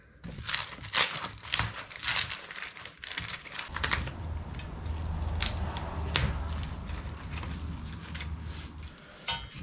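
Tight plastic wrap is peeled and crinkled off new SRC motorcycle crash bars for a 2022 Kawasaki KLR 650, close, busy crackling and tearing that continues throughout.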